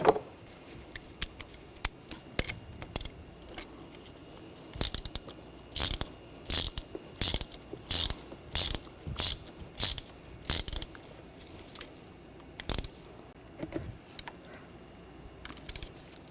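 Ratcheting wrench clicks in quick bursts while a starter mounting bolt is tightened on a 2013-2019 Ford Escape 2.0L L4, close-up and fairly quiet with short pauses between pulls.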